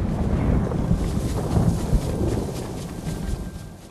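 Howling stormy night wind in Ghost of Tsushima, a steady, loud roaring gust with low rumbling swells that slowly eases toward the end, with no voices.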